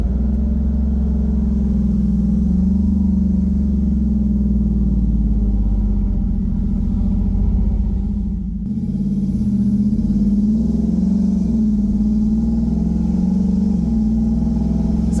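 A Jeep Wrangler swapped to an 8HP automatic transmission holds a single gear in manual mode. Its engine gives a steady, close, low rumble with a brief dip partway through.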